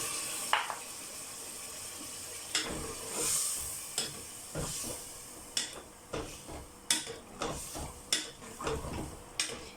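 Wet, thick stirring of mutton and yogurt in a pressure cooker pot, with irregular scraping clinks of a spoon against metal and soft squelching mixed in.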